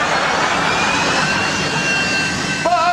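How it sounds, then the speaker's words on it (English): A bathroom extractor fan roars with a steady, broadband whoosh like a jet engine, loud and constant throughout, with a faint tonal whine and a brief higher tone near the end. "there's the jet engine in your bathroom. It's actually the fan which comes on when you turn on the light"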